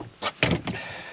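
A Vauxhall Astra Mk4 GSi door handle is pulled, giving a couple of quick mechanical clunks and latch clicks close by, then a short rustle with no talking.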